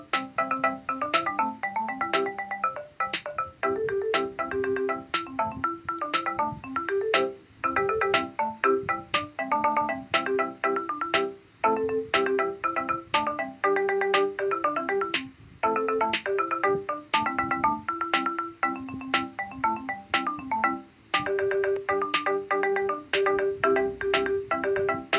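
Synthesized tune built in Chrome Music Lab, a busy looping melody of bright electronic tones over a steady pulse of sharp clicks, playing continuously and loud with no talking.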